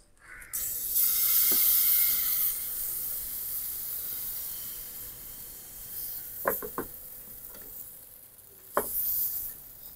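Batter for taal (palm fruit) patishapta sizzles steadily in a lightly oil-brushed pan, a soft broadband hiss loudest early, with a few faint clinks of a spoon spreading it thin near the end.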